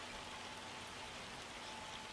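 Rain falls steadily in the farming video game Farming Simulator 25, a faint, even hiss of drops with no other sounds over it.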